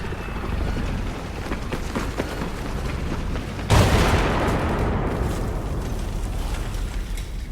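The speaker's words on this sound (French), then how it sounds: "ils ont un petit obus qui leur arrive en pleine gueule" A single loud artillery shell blast lands abruptly in a video game firefight between noxia and lacross, with a sharp boom followed by rumbling debris and a long decaying roar over continuous battle noise.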